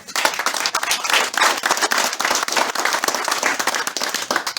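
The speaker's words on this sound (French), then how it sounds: "vous pouvez les applaudir" Loud, close applause from an audience at a school certificate ceremony, a dense burst of hand clapping that holds strong throughout.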